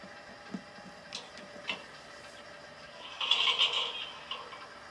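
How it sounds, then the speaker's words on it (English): A Soundtraxx Soundcar decoder in a model train car plays a brake-release sound on an under-layout test. A few faint ticks come first, then a short, soft hiss of released air near the middle of the clip. No one speaks. "So it sounded like a brake being released."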